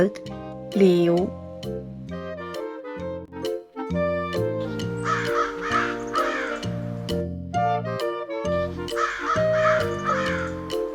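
A toy sounds a harsh crow caw near the start, surrounded by chiming electronic toy tones and short musical notes, all fairly close and clear.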